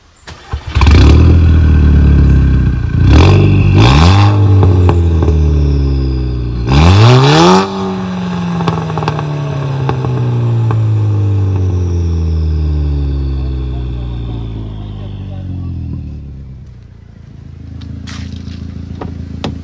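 A VW Golf 5 GTI with a stainless downpipe cranks and fires up, blips through several loud revs, then settles into a long falling, burbling idle heard close up.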